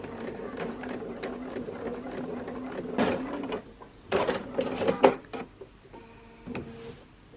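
A Bernina sewing machine stitches a quilt block in short bursts of fast, even whirring and ticking, close up, separated by brief pauses and handling noises.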